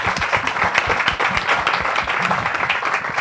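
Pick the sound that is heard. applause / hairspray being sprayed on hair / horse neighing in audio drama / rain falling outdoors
applause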